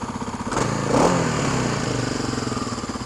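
A Kawasaki KLX 250 motorcycle engine idles with a throaty rumble, then revs up sharply once and settles back, loud and close.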